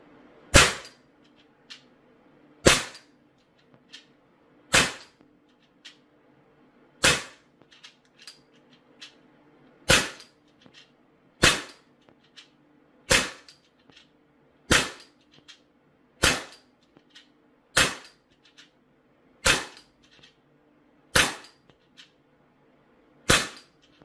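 Sig Sauer P320 4.5 mm BB air pistol in tan with a rotary magazine firing about fifteen sharp, loud, close pops at a steady pace of roughly one every one and a half seconds, each followed by a faint click.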